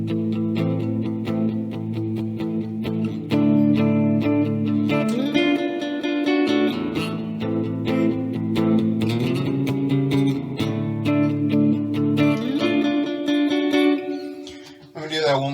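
Distorted electric guitar strums a run of sustained chords, the first sitting out of key before the progression resolves back into key, loud and continuous with no talking.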